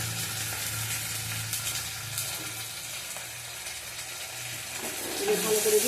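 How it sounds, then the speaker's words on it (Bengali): Ginger and garlic paste frying in oil for a rohu fish curry, a steady close sizzle with light stirring scrapes that grows slightly louder at the end. "এবার ভালো করে ভেজে নেবো"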